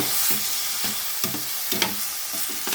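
Chicken for misua soup with fish sauce being stirred in a pot: a steady background sizzle with a spoon scraping and knocking every half second or so, close and clear.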